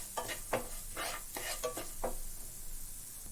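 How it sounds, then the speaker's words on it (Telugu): Ingredients for tur dal pachadi fry in oil over a low flame, a steady faint sizzle broken by several short scraping stirs of a spoon in the pan, with no voices. "ఒక 2-3 నిమిషాలు వీటిని బాగా ఫ్రై చేసుకోండి ఆయిల్లో"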